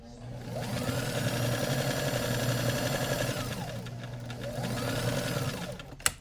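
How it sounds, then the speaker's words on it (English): A sewing machine runs a straight stitch on a double-layer fabric face mask, a close, steady mechanical whirr broken into two short runs with a brief slowdown between them, ending with a small click. "I'm just gonna drop a straight stitch down onto it though, just to keep it settled and into place."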